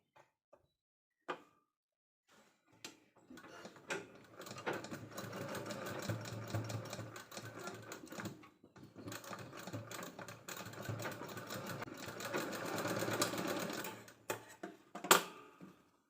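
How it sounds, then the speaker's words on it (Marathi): A sewing machine stitches a leftover blouse-border fabric strip for a pocket, with a few soft clicks at first, then long stretches of rapid, close mechanical whirring with brief pauses near the middle and end. "याच्यावरती आपल्याला एक टिप मारून घ्यायची आहे"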